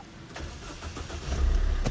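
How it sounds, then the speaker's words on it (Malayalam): A Maruti Ritz car engine starting up close, a brief cranking burst that catches at once and settles into a low, steady idle rumble. "സ്റ്റാർട്ടിങ് ആണെങ്കിൽ നല്ല കണ്ടീഷൻ തന്നെയാണ്. ഒറ്റയടിക്ക് സ്റ്റാർട്ട് ആയിക്കുന്നത്."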